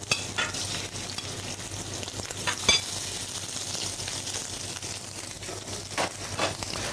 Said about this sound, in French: on va mettre à cuire, pardon, excusez-moi, les petites crevettes